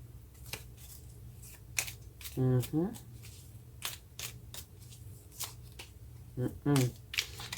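A large deck of tarot cards is shuffled up close, sharp papery snaps and riffles spaced through the clip, with a voice speaking briefly in between.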